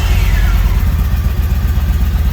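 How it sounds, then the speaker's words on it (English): A 2015 Yamaha V Star 1900 Raider idles up close with a loud, steady, deep low rumble that pulses evenly throughout without any voices over it. "you can tell it's a big motor. It's got a very low and deep rumble to it"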